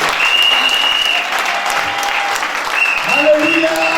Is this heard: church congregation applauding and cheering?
yes